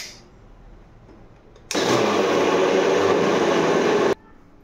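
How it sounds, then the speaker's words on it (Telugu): A mixer grinder whirs loudly as it grinds soaked chana dal with cumin, green chili and ginger, starting abruptly and running in a steady, dense roar for about two and a half seconds before cutting off. "వేసి మిక్సీ పడదాం."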